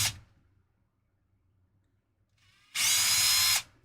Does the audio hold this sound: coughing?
no